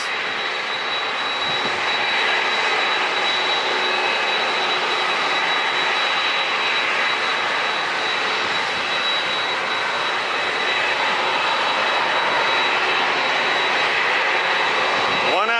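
A passenger jet airliner comes in to land at San Diego International Airport with a loud, continuous engine roar and a thin high whine running through it. The sound stays steady and close throughout.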